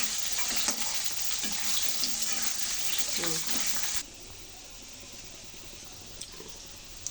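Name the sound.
frying potato and taro pieces in oil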